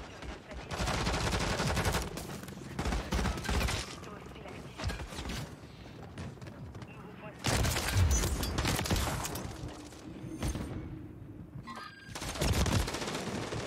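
Gunfire in the video game Call of Duty MW3, repeated loud bursts of automatic shots in several clusters with short pauses between them and mechanical clicks, heard close, with a voice talking over parts.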